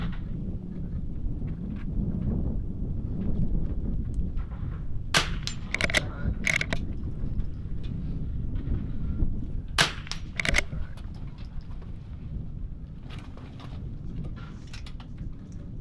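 A .22 rifle fired during an NRL22 precision match outdoors in strong wind, sharp cracks in a few spaced shots and doubled bursts over constant heavy wind rumble.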